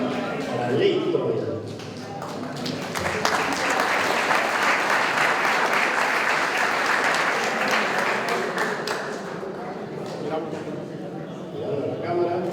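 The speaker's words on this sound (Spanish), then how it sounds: "Fuerte las palmas para Leighton." An audience claps steadily through a graduation ceremony for a motorcycle and vehicle mechanics class, a dense, sustained round of applause that swells and then tapers off near the end.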